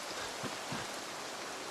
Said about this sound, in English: the life-giving rain is just going to continue on for the rest of the day